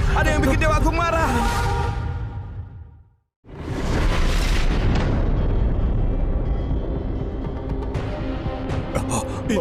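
Statues in a Chinese fantasy drama burst apart in loud, rumbling explosive blasts with whooshing debris, then fall briefly silent before a second sustained eruption swells, and shattering crackles ring out near the end.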